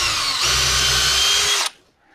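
A power drill bores a pilot hole for a lag screw into a wall stud, running as one steady, loud, close whine for under two seconds before cutting off abruptly.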